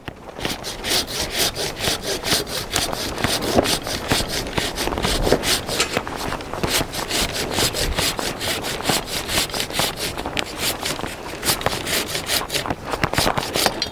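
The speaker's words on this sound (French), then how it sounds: "je vais couper avec une scie arboricole qui coupe en tirant" A pruning saw that cuts on the pull stroke saws steadily through a fruit tree branch in rapid back-and-forth strokes, rasping and continuous for the whole stretch, close by with no talking.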